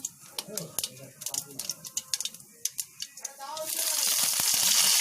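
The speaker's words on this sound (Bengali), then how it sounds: "তেলটা যখন একটু গরম হয়ে যাবে তখন এতে আমরা অ্যাড করব সর্ষে, এরপর আমরা অ্যাড করব শুকনো লঙ্কা" Mustard seeds and dry red chillies hit hot oil while dosa is being made: scattered sharp pops and ticks at first, then a loud, steady sizzle swells up and holds.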